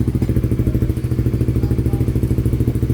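A Suzuki Raider 150 Fi motorcycle with a power pipe idles steadily at about 1,500 RPM, its loud, even low-pitched engine pulse running continuously and close by with no talk.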